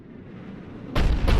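In Mass Effect Legendary Edition, a cannon operated by Cerberus fires two heavy, booming blasts in close succession, loud and near, cutting in over a low rumbling background.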